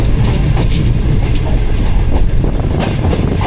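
Heard from aboard a Pakistan Railways passenger train on the Karachi–Lahore route, with Khyber Mail standing nearby: a loud, close, steady rumble with rhythmic clickety-clack of wheels over rail joints and faint squeals.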